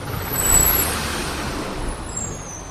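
A road vehicle pulls up and brakes to a stop outside an ordinary restaurant, with a steady broad rumble and hiss close by and faint high squeals from the brakes; no voices.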